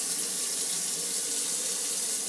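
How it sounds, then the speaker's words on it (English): Fresh cucumbers for dill pickles scrubbed with a brush under a running tap, a steady loud hiss of water splashing into a sink, close and continuous without speech. "with a scrubbing brush."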